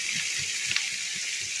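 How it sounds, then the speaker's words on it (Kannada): Steady close sizzle of a pan frying with turmeric for carrot lemon rice, a continuous hiss with faint stirring scrapes underneath. "ಅರಿಶಿನ ಹಾಕೊಂಡ್ಮೇಲೆ ಚೆನ್ನಾಗಿ ಫ್ರೈ ಮಾಡ್ತೀರಿ"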